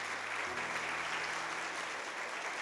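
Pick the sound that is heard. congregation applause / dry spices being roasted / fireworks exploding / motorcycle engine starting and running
congregation applause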